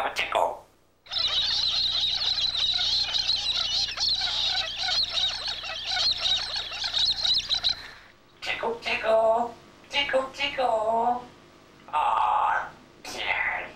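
A pet parrot in a home vocalizes in a dense, continuous chattering and squawking run for several seconds, then breaks into shorter squawks and bursts between pauses, fairly close and loud.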